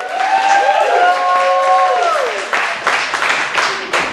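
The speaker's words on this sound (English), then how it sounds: "clap your hands" Audience at a poetry open-mic event clapping and cheering, a dense burst of applause and crowd noise under a voice calling out, with sharp claps standing out toward the end.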